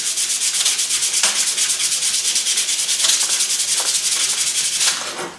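Fine grit sandpaper rubbed back and forth over a knife blade, a close, steady rasping hiss in quick repeated strokes with no talk.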